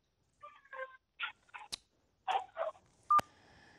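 Telephone dialing tones from a caller on a call-in line, a series of short electronic beeps in uneven bursts, the last one louder and sustained, with no talk over them.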